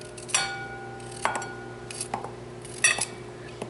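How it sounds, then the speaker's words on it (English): Fresh turmeric root being cut into smaller pieces with a knife, a few sharp clicks and taps of blade against a cutting board spaced irregularly, close and fairly quiet, with no voices. "I'm going to take these, and I'm going to cut them into smaller pieces."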